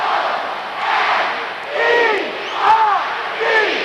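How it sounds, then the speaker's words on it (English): A basketball crowd in Lowell chants "Somerville" at the 2000 Division 1 girls' North Final against Methuen, a loud rhythmic chant that rises and falls in repeated surges, several bursts in a row. "Somerville is the chant, folks."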